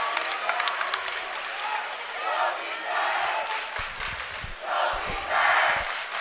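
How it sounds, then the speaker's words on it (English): Basketball fans cheer in a high school gym during a varsity boys game, loud crowd roars and yells rising in waves with scattered claps and shouts, mixed with nearby chatter. "Good to see Lakota East fans cheering for him"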